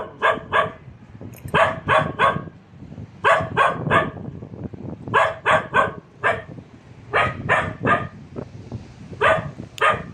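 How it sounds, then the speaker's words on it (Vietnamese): Dogs bark repeatedly at night in a cemetery, bursts of several sharp barks in quick clusters, fairly close and loud, with another dog answering from farther off and no talking. "Bạn của nó tuốt ở phía đằng kia cũng sủa nữa, mà mình thấy cái con chó này."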